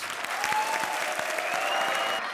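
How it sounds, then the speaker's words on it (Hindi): A studio audience at a comedy show applauds loudly, a dense, steady burst of clapping that runs the whole time. "जोरदार तालियां एक बार फिर इनके लिए"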